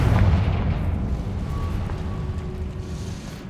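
Confringo fire spell cast in Hogwarts Legacy on PC: a loud booming blast at the start, followed by rumbling low-end roar and faint ringing tones as the explosion decays over a few seconds.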